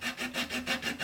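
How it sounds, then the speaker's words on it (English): A flush cut saw trims ebony plugs level with a maple surface, a close, rhythmic back-and-forth rasp of about six quick even strokes with no talk. "we're just going to use a flush cut saw"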